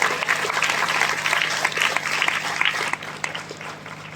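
Loud applause from an audience, a dense sustained burst of many hands clapping that carries on steadily before easing slightly toward the end.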